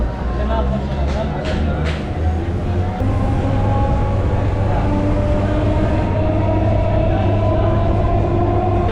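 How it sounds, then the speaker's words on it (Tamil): A suburban train pulls into Chromepet railway station on the Chennai line, with a loud, steady close-up rumble of wheels and carriages and some higher screeching early on, continuing without a break. "ட்ரெயின் இப்போ குரோம்பேட்டை ரயில்வே ஸ்டேஷனுக்கு என்ட்ரி ஆகுது"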